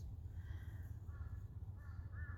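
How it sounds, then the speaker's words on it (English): Crows caw outdoors in a quiet natural setting, a few faint harsh calls in short runs, with no talking. "listening to the birds"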